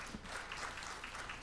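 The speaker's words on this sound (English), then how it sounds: "Another round of applause, please." An audience at a census preliminary report release gives brief, soft applause, a dense patter of clapping heard from some distance.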